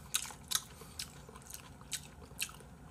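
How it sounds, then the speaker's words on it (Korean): Raw yellowtail belly sashimi being chewed up close, giving crisp crunchy bites in a loose rhythm of about six sharp crackling bursts over a low quiet background, no talking. "어떻게 회가 이렇게 아삭아삭하게 씹히지?"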